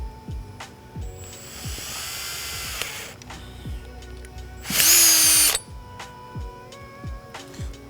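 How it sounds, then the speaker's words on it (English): A power drill boring mounting holes for a Qubic actuator, heard as a loud, steady high whine for roughly a second near the middle, with quieter tool handling and clicks before and after. "We're gonna drill center and directly on top of that."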